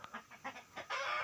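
Roosters on a poultry farm cluck in a quick run of short calls, then one lets out a longer, louder cry, close to the microphone.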